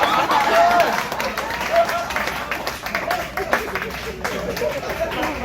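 A comedy roast battle crowd in North Queensland applauds, loud at first and then thinning into scattered claps mixed with chatter and voices from the room.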